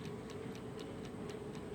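An antique pre-1930 New Haven floral copper clock with a second hand ticks in a steady, even rhythm, about four ticks per second, faint against a quiet room hiss.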